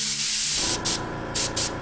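An airbrush-style spray gun run at about 10 psi lays paint on a plastic model stagecoach kit, a steady soft hiss with brief stronger bursts of spray starting and stopping.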